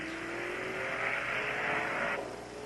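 A funny car accelerating hard down a drag strip at Thunder Valley Dragway in Bristol, Tennessee, a loud sustained engine roar that rises in pitch and then drops away near the end.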